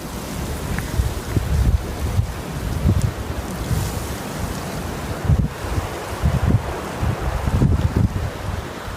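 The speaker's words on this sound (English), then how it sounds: "The wind was so strong it sent the waterfall flowing upward" Powerful gusts tear at a waterfall and blow its water upward, a loud, rushing roar of wind and spray that swells and buffets continuously with no voices.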